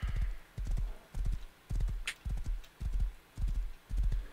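Horse hooves clip-clop in the survival game Rust, a steady galloping rhythm of paired thuds repeating about every half second, close and fairly loud with no talking over them.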